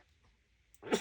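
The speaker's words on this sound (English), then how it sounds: "I'm going to sneeze." A single sudden sneeze bursts out loud and close after near-silence, a sharp broadband blast at the end of a quiet moment indoors.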